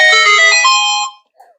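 A phone notification ringtone chimes once, loud and close, as a bright multi-tone melody lasting about a second, then falls away, followed by a faint brief murmur. The setting is an indoor review of a haul of fishing gear.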